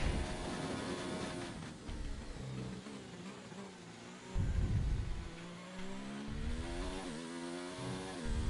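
An F1 race car engine in a racing video game screams and revs, its pitch climbing and dropping through gear changes, with a louder surge partway through and no talk.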